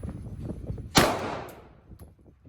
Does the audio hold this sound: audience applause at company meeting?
no